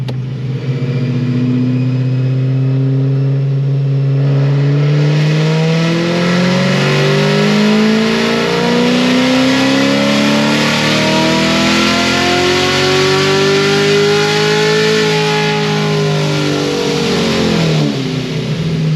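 A car engine fitted with a Procharger supercharger and headers revs hard through a full-throttle pull, its loud, steady roar climbing in pitch over many seconds, briefly easing, then rising again before cutting off near the end.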